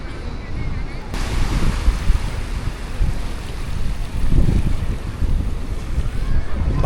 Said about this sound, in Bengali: যেমন দেখছো এই সমুদ্রের ঢেউ আসছে